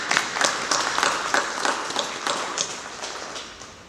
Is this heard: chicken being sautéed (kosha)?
no